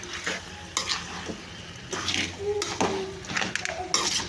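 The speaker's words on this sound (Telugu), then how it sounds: "ఇంక ఆయిల్ వేసి అయితే ఉడికించేసుకున్నాం తలకాయ కూరని." Goat head curry cooking in oil in a pan, heard as steady frying and sizzling with a spoon stirring and scraping at intervals, close up, with faint voice sounds in the background.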